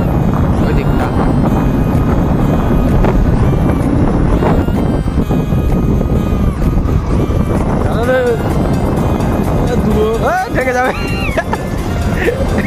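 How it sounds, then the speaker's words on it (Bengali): Cool wind gusts across a canal bank, roaring loudly and steadily against the microphone for the whole stretch while people talk over it. "কি সুন্দর ঠান্ডা হাওয়া চলছে"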